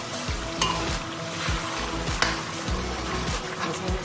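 Karahi gosht meat frying in a pan, a steady sizzle under repeated scraping strokes as a spoon stirs and turns the pieces, close and moderately loud with no talking.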